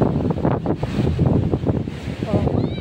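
Ocean waves wash up onto a beach at San Fabian, Pangasinan in the Philippines, a steady rushing surf roar mixed with wind buffeting the microphone, while people talk nearby.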